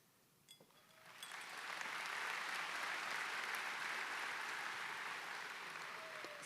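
Sustained applause from a high school commencement audience, swelling after a second into a dense, steady roar of many hands clapping that holds at full strength to the end.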